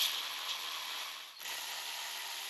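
A ratchet snugs down intake bolts on a 2011-2019 Ford Explorer, giving quick, close metallic clicking that runs almost without pause, briefly interrupted midway.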